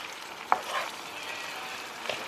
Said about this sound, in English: I'm frying my egg rolls.